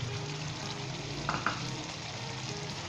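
Turmeric chicken with green chillies and coriander frying in a pan, a steady even sizzle with a couple of brief spoon clicks near the middle as it is stirred.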